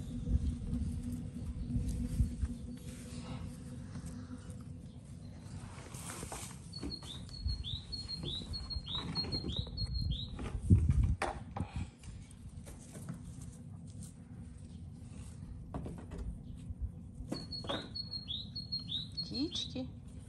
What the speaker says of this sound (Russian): Птички.